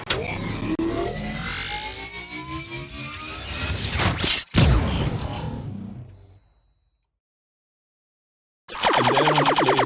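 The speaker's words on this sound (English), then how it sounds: "Is this Sci-Fi gun effect" A sci-fi gun sound effect: a loud, dense sweeping whoosh with a sharp crack partway through, then a swelling burst that cuts to silence before an abrupt buzzing, pulsing blast returns at the end.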